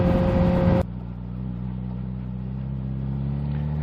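A Kawasaki ZH2 motorcycle engine runs while riding, a steady mid-pitched drone with a sharp drop in tone early on as the revs fall or a gear changes, then continuing at a constant even hum.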